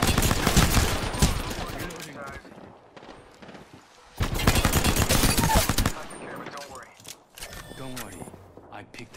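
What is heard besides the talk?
gunfire in a video game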